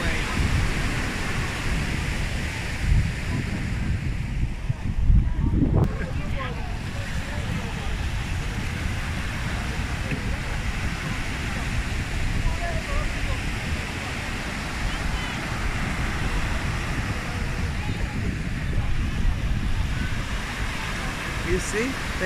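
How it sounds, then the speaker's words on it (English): Ocean waves wash steadily onto the beach at Tanji fishing village in the Gambia, a loud, broad, continuous surf roar with gusts of wind, close by and without talk. "Oh, listen to those waves."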